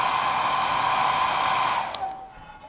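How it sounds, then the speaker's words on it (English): A hair dryer on its low setting blows with a steady, close whirring hiss, then is switched off and winds down into quiet. "So you can put your hair dryer on low if you want to."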